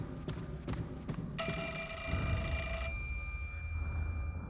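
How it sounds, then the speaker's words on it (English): A single burst of an old-fashioned telephone bell ringing in a video game, Fatal Frame 4, bright and metallic, over soft background ambience with a few thuds before it. "we have a ringing telephone"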